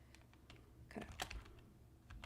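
Keys clatter on a computer keyboard in a short, quiet flurry of separate taps, with a couple of firmer strikes near the middle, as a word is typed.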